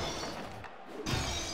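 Glass shatters in MDickie's Wrestling Empire wrestling video game, a dense, close crashing burst with a short break in the middle before the smashing noise returns.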